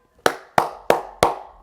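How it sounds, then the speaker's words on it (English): Four sharp, close hand claps spaced evenly about a third of a second apart, each ringing briefly in a quiet room. "Jeff Wilson got to get more rounds of applause"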